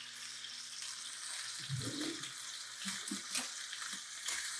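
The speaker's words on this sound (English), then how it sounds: "All we're doing is browning up a little crisp on each side" Steak browning in a pan with seasoning, a soft continuous sizzle with a few faint clunks and scrapes, fairly quiet and close.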